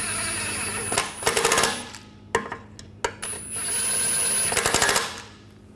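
A power tool snugs down bolts on the rear sway bar link of a 2004-2009 Audi A4 Quattro, with two close, loud rattling bursts separated by a few sharp clicks and knocks.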